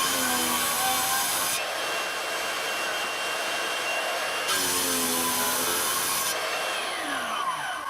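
A wet tile saw whines steadily while cutting a square opening in ceramic tile, its pitch dipping and rising as the blade bites into the tile, loud and continuous with no voices.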